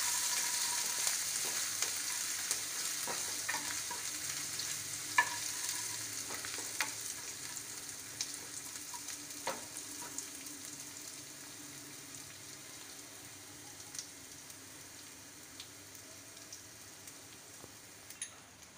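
Garlic ginger paste sizzles in a pan for kadhi pakora, with a soft, steady hiss and frequent scraping stir clicks. It stays fairly faint and close, with no voices.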